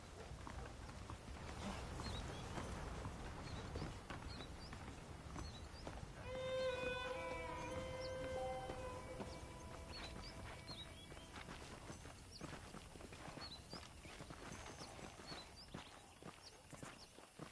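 Horse hooves clip-clop at a steady walking pace in Red Dead Redemption on PS4, a moderate, continuous rhythm under a bed of ambient game sound with a few brief tonal cues.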